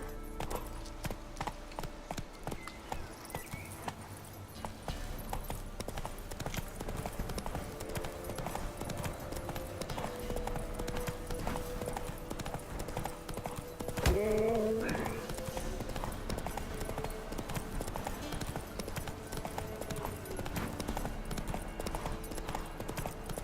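The horse Roach gallops in The Witcher video game, a continuous, rapid clip-clop of hooves running throughout, with a brief sharp sound near the middle and speech heard over it.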